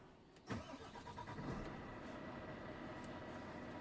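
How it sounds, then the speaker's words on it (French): A truck engine cranks and catches with a sharp burst, then settles into a steady, moderately loud idle rumble that continues to the end, with no talking. "Mise en marche du moteur."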